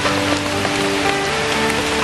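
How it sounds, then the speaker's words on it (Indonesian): Rain falls steadily on surfaces in a Kalimantan forest, a dense, even patter close by that goes on without a break, with no voices over it. "Aduh, hujan ini anjir. Hai hujan."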